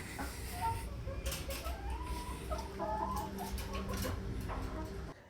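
Several chickens kept inside a toilet cluck and chatter close by over a constant background hum, with no one speaking.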